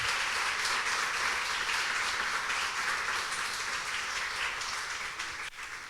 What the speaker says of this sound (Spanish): ¿Cuántos le pueden dar un aplauso a Jesús en esta mañana?